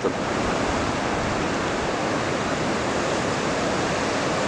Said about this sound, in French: Les vagues sont quand même assez courtes et assez fermantes.